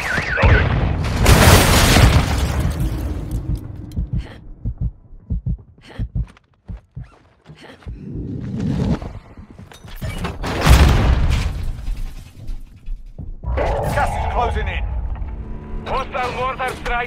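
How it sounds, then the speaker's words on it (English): Heavy mortar strike explosions in Warzone Mobile land in deep booming bursts, two prominent impacts several seconds apart, among gunfire and game clatter, with in-game voice callouts heard throughout. "Mortar strike inbound now."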